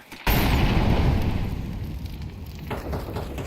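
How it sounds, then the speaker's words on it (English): An incendiary grenade bursts in a video game with a sudden loud crack, then a roaring, rumbling burn that slowly fades, ending in a softer crackling flare. "Incendiary out."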